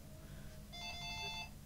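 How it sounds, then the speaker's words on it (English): A phone ringtone chimes in a steady electronic pattern for about a second, fairly faint over a low background hum, with no talking. "And that's my phone."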